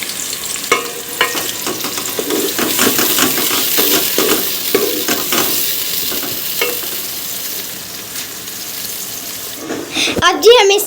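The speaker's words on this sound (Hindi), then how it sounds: "अब इसमें प्याज धो के डालूंगी" Onions being rinsed in water at a home kitchen sink, with running tap water and wet splashing and stirring sounds continuing steadily, a few sharper clatters, and a louder burst of movement near the end.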